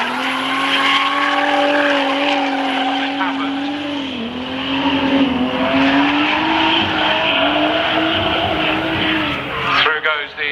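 Drift cars at Castle Combe circuit scream through a long slide, engines roaring with sustained tire squeal and howling pitch shifts, loud and continuous, with an announcer's voice running underneath.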